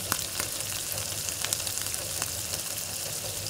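Masala with soaked tamarind pulp fries in a pan, a dense continuous sizzle and hiss with a few faint clicks, close and steady throughout, no voices.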